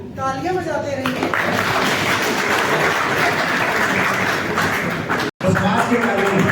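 Dense crowd applause at a Hindi-language community stage event, rising after a short tonal voice or music opening and continuing steadily with talk over it, with a brief dropout before the clapping resumes.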